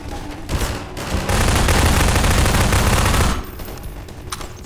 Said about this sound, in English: They're shooting something.